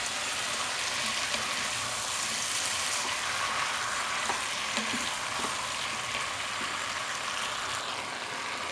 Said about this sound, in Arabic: ابدا بقى ايه اشوح كده اهو لحد الخضار بتاعي ما يدبل خالص.